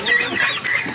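Chickens cluck and chirp nearby in a brief, busy burst, with no talking over them.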